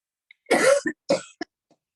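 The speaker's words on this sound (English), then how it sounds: "This time we take a deep breath and cough." A single person coughs close up, a forceful hacking burst followed by a couple of shorter coughs, with quiet around it.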